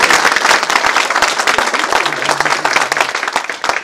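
An audience at an art school prize-giving claps for a few seconds, a lively, fairly loud patter of many hands with a faint murmur of voices underneath.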